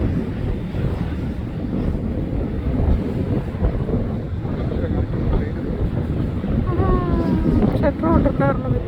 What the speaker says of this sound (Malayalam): തുറന്നൊരു ബോട്ട് വരണതാണ്